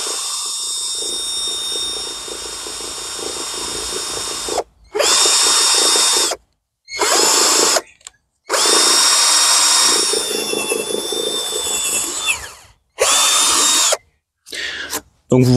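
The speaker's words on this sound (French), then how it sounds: "je peux faire les trous." A power drill bores holes in wooden pallets being set up as solar panel mounts, in several loud whirring bursts separated by short silences, revving up and down near the listener.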